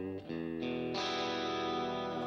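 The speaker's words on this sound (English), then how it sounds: "There's our eighth note echo." Electric guitar played through an amp simulator with an eighth-note echo effect synced to the song's tempo, sustained chords ringing loud and continuous with layered repeats building up.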